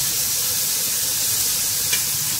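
Bitter gourd is stirred and roasted in a pan, giving a steady soft sizzle and hiss throughout, with a faint scrape of stirring near the end.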